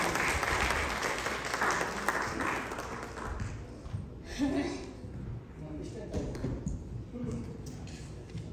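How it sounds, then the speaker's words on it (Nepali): A congregation at a Nepali church's Sunday service in Louisville claps loudly to welcome the pastor, a busy wash of applause that swells and dips, with voices mixed in. "आउनुहोस् ठुलो ताली बजाएर हामी पास्टर बाबा हामी स्वागत गर्नेछौँ वचनको निम्ति"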